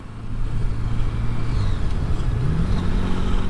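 A Honda Goldwing 1500 motorcycle approaches from behind, its smooth engine drone building steadily under wind and road rumble.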